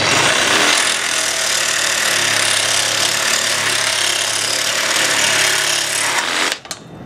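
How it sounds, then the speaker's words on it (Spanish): A used DeWalt DCS380B cordless reciprocating saw with a toothed blade cuts steadily, a loud continuous rapid buzzing rasp lasting several seconds before stopping abruptly near the end. "Pudimos cortar mucho más rápido con la sierra dentada y eso que ya estaba usada."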